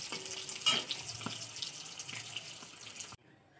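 Egg curry simmering and frying in a pan with cumin, whole garam masala and dried chillies, a soft continuous sizzle with a few small clinks, ending abruptly in near silence.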